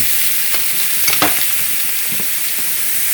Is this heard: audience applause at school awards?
no